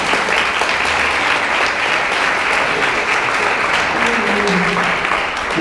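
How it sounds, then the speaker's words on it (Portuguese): A congregation at a church youth congress applauds warmly to welcome a woman back to the stage, sustained loud clapping with faint crowd murmur and a voice or two rising near the end. "vamos receber a irmã Juliana novamente com palmas bem alegres para nós"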